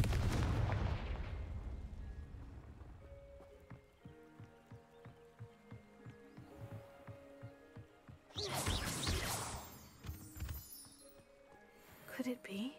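Confringo blasting spell going off in Hogwarts Legacy at a crumbling tower: a loud explosive burst at the start, then quiet ambient tones, followed by a second big blast and rumble near the end.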